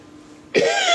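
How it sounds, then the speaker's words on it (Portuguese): After a moment of quiet, a single sharp cough bursts out loudly, close to the listener. "porque eu estou tossindo bastante"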